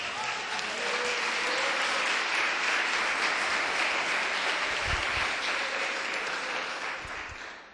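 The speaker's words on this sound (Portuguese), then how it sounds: "Pode dar uma salva de palmas para Jesus." A congregation applauding in church during a Portuguese sermon: a full, sustained burst of clapping from many people, steady and even before tapering off at the end, with faint voices beneath.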